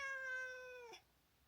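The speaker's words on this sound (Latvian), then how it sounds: "Tā bija Džesa, tas ir mans ļoti, ļoti vokālais kaķis" A house cat gives one drawn-out, close meow lasting just under a second, then falls silent. The cat is very vocal.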